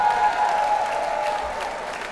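A crowd at a rally against redistricting claps steadily, a moderately loud, sustained patter of applause that slowly fades toward the end.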